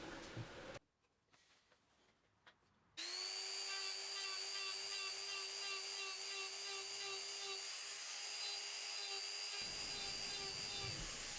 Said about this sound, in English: So here I am starting the texture on the outside rim using a larger burr in a die grinder.